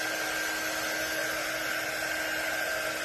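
A hair dryer blows steadily to dry paste on patriotic decor, a constant close whooshing drone with a faint whine that holds at one level the whole time.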